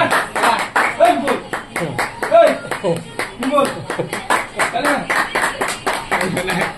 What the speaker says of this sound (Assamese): তালি এটা মাৰি দিয়ক চবে ৰাইজে তালি